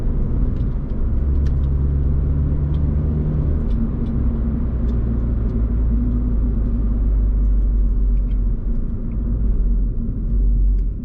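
A 2017 Mini Cooper S F56 with a JCW tuning kit taking corners: a steady, heavy low engine and road rumble that holds a fairly even level throughout, with no voices.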